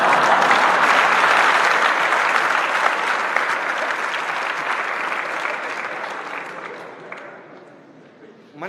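Sustained applause from a lecture audience, loud and steady at first, then slowly thinning and fading toward the end.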